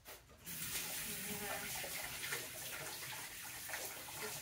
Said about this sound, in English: Now I wash my hand.